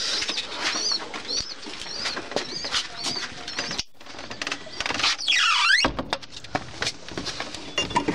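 Jalali pigeons in a loft flap their wings in repeated bursts, with soft cooing and rustling close by, one sharp whooshing flutter near the middle and a brief silent gap, no talking.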